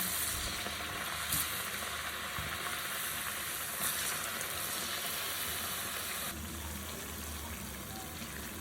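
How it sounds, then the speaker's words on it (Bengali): Chepa pitha rice cakes fry in oil in a wok, a steady, fairly loud hiss and crackle that continues unbroken with no voices. "একটি কড়াইয়ে পরিমাণ মতো তেল দিয়ে তাতে একে একে পিঠাগুলো ছেড়ে দেব"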